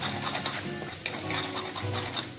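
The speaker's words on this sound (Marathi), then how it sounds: "आता आलं आणि लसूणची पेस्ट टाकून घेऊ आणि एखादा मिनिटभर परतवून घेऊया" Ginger-garlic paste sizzles in hot oil in a pan while a spoon stirs it, with steady frying crackle, scraping strokes and occasional sharp clinks of utensil against metal, close and continuous.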